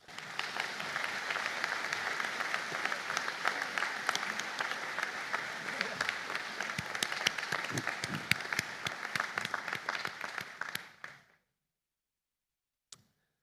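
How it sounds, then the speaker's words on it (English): Sustained applause from a seated audience at a university graduation conferring ceremony, a dense steady roar of clapping for about eleven seconds before cutting to silence, with one later isolated tap. "applause."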